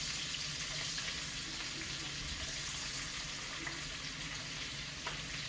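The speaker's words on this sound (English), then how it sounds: "now it's time to start adding the vegetables into the saute. Green peppers, the peppers in first" Green peppers sauté in a hot pan, giving a steady, even sizzle and hiss that runs unbroken throughout, with no voices.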